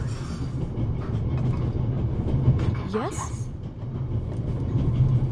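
A train rolls along in a PS4 video game, a steady low rumble of carriage and track noise running under a brief spoken exchange, with a short tonal whistle-like sweep midway.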